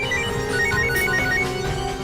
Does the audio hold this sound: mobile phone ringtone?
yes